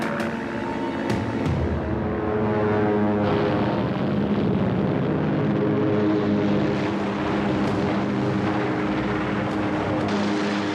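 WWII fighter planes taking off from the aircraft carrier Yorktown, a continuous loud droning roar of propeller engines with overlapping buzzing tones, steady throughout and close, with no voices.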